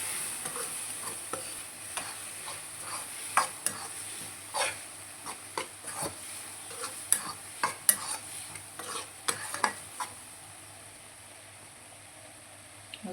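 Gongura leaves cooking down in a pan for a gongura chicken pickle: a quiet simmering hiss is broken by irregular scraping and tapping stir strokes that stop near the end, with no voices.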